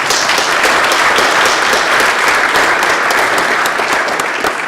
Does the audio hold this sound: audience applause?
yes